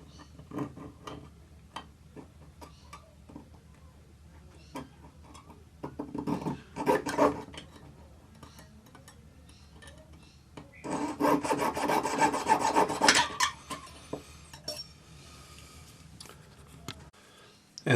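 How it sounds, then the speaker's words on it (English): A metal file rasps across the bottom of a small jewelry jump ring held in flat round pliers, in quiet intermittent strokes that build to a denser, louder burst of filing near the end. "I hold it with my flat round pliers and file the bottom."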